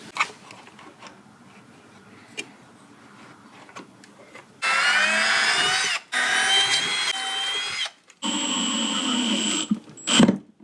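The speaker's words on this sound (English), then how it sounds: "you can drill holes down through at an angle and then just sink your screws in" A power drill whirs in several loud bursts of a few seconds each, stopping and restarting, drilling angled pocket holes with a jig, after a quieter stretch of faint workshop noise.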